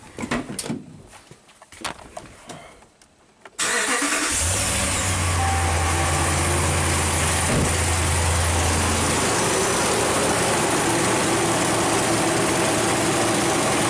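A Chrysler HEMI V8, under diagnosis for a P0016 crankshaft–camshaft correlation fault, cranks and catches, then settles into a loud, steady close-up idle for about ten seconds after a few quieter shop sounds.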